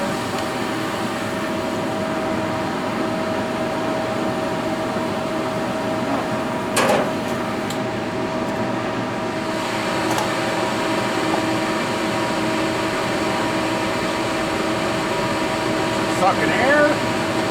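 A Champ Job Maker kerosene heater runs with a steady, loud whooshing drone, sucking air as it sputters for fuel, with a few brief clicks and knocks over the constant roar.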